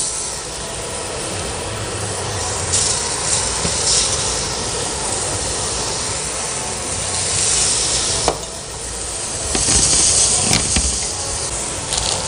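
Steady broadband sizzling of zucchini frying in a pan, continuous and fairly loud, with occasional brief clicks and spatters.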